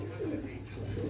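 Teddy pigeons coo in a brief, low, murmuring burst, close by and on their own.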